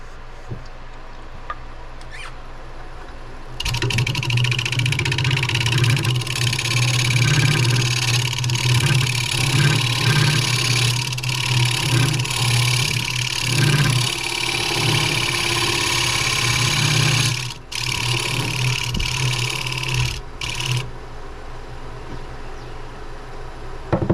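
A wood lathe spinning while wood is turned, heard as a steady mid-pitched motor hum that starts a few seconds in and keeps running with brief dips, with scraping tool contact over the drone and no voices.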